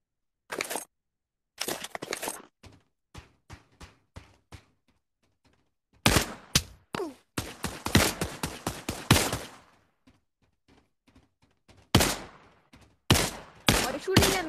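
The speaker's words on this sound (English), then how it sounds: "Why are you shooting at me?" Gunfire in the Pavlov video game, with sharp, loud shots fired in rapid bursts and scattered single cracks separated by short silences, including a dense automatic stretch in the middle.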